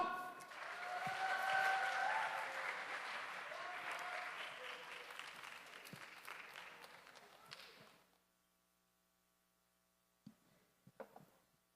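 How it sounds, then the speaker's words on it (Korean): Applause from a church congregation at a children's dedication Sunday worship service, a broad steady wash of clapping that fills the hall for about eight seconds, then stops abruptly, leaving quiet with a few faint knocks. "자, 박수!"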